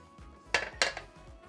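Cooked green beans are drained in a metal pot, bringing a couple of sharp clanks and knocks of cookware over a faint background hiss.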